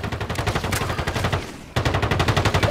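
Rapid automatic gunfire from a Call of Duty match on Rebirth Island, loud sustained bursts of evenly spaced shots with a brief pause midway before firing resumes.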